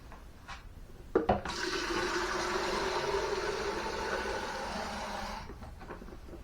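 Tap water runs steadily into a plastic orchid pot of bark chips set inside a ceramic pot, the pour loud and close for about four seconds after a couple of knocks, then stopping.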